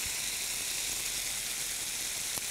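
Onion, tomatoes and garlic sauté in a hot pan for an Indian dish, making a constant close sizzling hiss that holds an even level throughout, with one small clink near the end and no talking.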